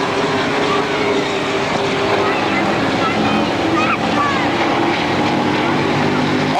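Stock race cars roar down the long back straightaway at Motordrome Speedway in a 1992 multi-division race show, a dense, steady wall of engine noise with a faint pass-by sweep partway through, close and loud throughout.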